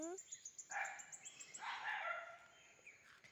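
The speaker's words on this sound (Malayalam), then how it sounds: "പട്ടി" A dog barks faintly in the distance in rural Wayanad, in short bursts, while voices are heard nearby.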